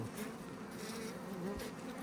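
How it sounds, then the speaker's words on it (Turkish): Buzzing of a young honey bee, a steady close insect drone with a wavering pitch that holds for about two seconds, heard alone without any talk. "Genç bir arı."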